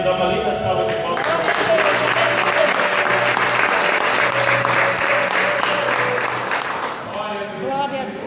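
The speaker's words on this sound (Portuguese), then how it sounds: "E a igreja dá uma linda salva de palmas." A church congregation bursts into warm, sustained applause after a prayer, dense clapping swelling and holding steady for several seconds, with a voice speaking over the start and end and a faint sustained tone beneath.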